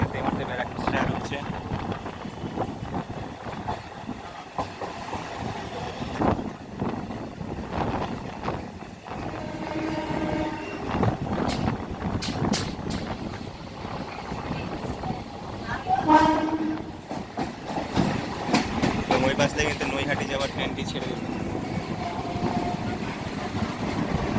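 A Krishnanagar City to Sealdah local train leaving Barrackpore station, a continuous rumbling rattle of carriages and wind buffeting, a horn sounding partway through, with a voice heard over the ride.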